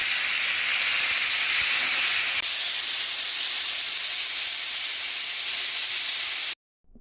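A loud, steady hiss of steam rushes out continuously for several seconds from a pressure cooker whistle while cooking egg biryani, then cuts off abruptly into silence.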